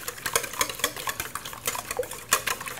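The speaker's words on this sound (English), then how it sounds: "So what I have is 5 eggs with a little bit of milk. Just gonna whisk together real quick." Five eggs with a little milk being whisked quickly in a bowl, a steady rapid clatter of utensil against the bowl, close and fairly loud, with no talking.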